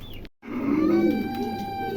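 A pair of pigeons offered for sale coos once in a soft, low, drawn-out call just after a brief dropout, with faint background hum and no talk.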